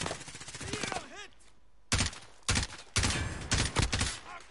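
Sharp bursts of gunfire and a rocket blast in a Warzone match, several loud cracks and short volleys separated by brief gaps, with a whooshing pitch sweep early on and a voice talking over the action.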